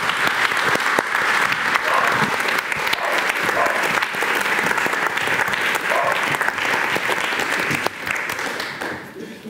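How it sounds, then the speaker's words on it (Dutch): Dense, steady applause from an audience thanking a panel at a live city-talk event, sustained for several seconds at close range before tapering off at the end. "Hartelijk applaus voor ons geweldig panel."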